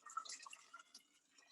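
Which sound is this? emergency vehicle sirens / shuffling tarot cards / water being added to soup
water being added to soup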